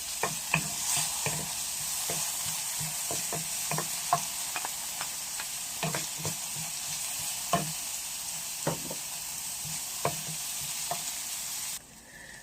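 Onion and garlic frying in a little hot oil, a steady close sizzle broken by frequent scraping stirs and ticks before it cuts off near the end.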